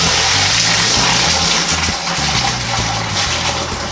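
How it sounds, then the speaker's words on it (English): Dark Scotch ale homebrew wort, several gallons, gushes through a strainer into a fermenting vessel as a loud, steady rushing pour that churns and splashes close by throughout, with nobody speaking. "I'm going to run all 3 or 4 whatever gallons that's left of this wort through the strainer"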